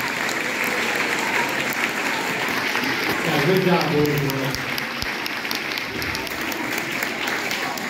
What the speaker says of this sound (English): Let's give all of our students and our instructors and accompanists another round of applause.